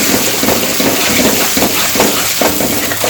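Turmeric roasting in ghee in a pan while the moisture cooks off, giving a loud, steady, close sizzle and crackle that runs without a break and has no talk over it.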